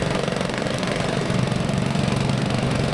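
A jumping jack compactor pounds beside an electrical conduit trench being dug outside a building, a close, loud, rapid thumping engine rattle that holds steady throughout without voices.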